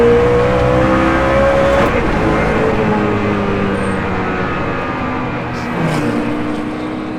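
A Hennessey Venom F5 Revolution Evo hypercar launches and pulls hard on a public road, its engine note climbing steadily through the revs, loud and continuous with a brief dip near the end as it shifts.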